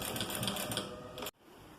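A sewing machine stitches a garment with a fast, steady mechanical whir that runs close and continuous, then stops abruptly, leaving quiet.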